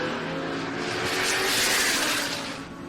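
Drag race cars launch down the strip at a drag racing event: a dense, loud, sustained engine roar that swells and fades over a few seconds, with no talk over it.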